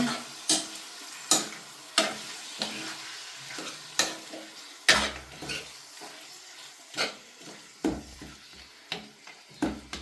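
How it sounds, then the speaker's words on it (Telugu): Mutton frying in a pan, with a steady sizzle and repeated scraping and clanking of a spatula against the metal pan at an irregular rhythm, close by with no talking. "సో ఇలా ఫ్రై చేసుకోవాలి చూడండి."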